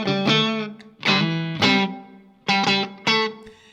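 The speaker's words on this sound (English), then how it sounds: "My biggest complaint again is that reverb." Electric guitar through a Strymon Iridium amp modeler with a digital-sounding reverb plays short strummed chords in uneven bursts, each ringing out into a slightly delayed, unnatural wash before the next hit.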